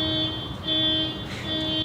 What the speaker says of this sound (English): Is that a car alarm?